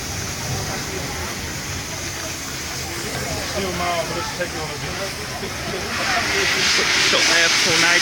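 Steam locomotive Tornado departing a station at Walton-on-the-Naze, a steady hiss of steam that builds louder toward the end, with a voice talking over it.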